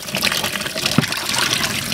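Water runs steadily from a tap while meat for pulutan is washed, a continuous close splashing and gushing flow with faint clatter mixed in.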